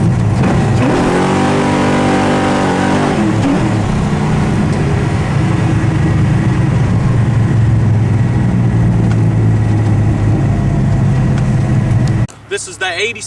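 A 1987 Chevy Monte Carlo SS with a 408 small-block V8 revs hard, climbing in pitch over about three seconds and then roaring loud and sustained before cutting off abruptly near the end.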